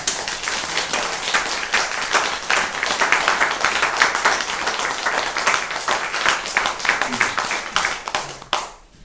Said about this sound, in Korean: 하나님 앞에 영광의 박수를 올려드립니다